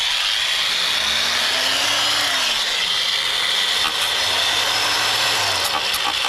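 A power tool whines steadily as it cuts rust out of a 1993 Jaguar XJ40 body, a constant grinding hiss with the motor pitch sagging and recovering twice under load, close and continuous.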